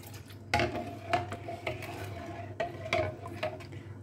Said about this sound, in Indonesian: Dan kita aduk ini. Seperti ini ya, kita aduk seperti ini.